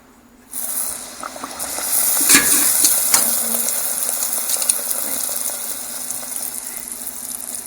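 Doubles dough drops into hot oil in a pot and starts frying at once, giving a steady, close, loud crackling sizzle that holds for several seconds.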